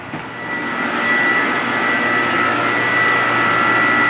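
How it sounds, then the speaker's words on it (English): A reverse osmosis machine runs steadily, pumping maple sap at high pressure through membranes to strip out water, giving a loud continuous whine and hum with a high, sustained tone and no breaks or voices. "This machine takes out 3/4 of the water before we boil it."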